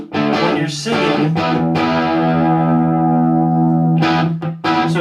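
Electric guitar played loud through a Spark 40 amp with distortion and effects, sustained chords ringing steadily with a brief break before another strum near the end.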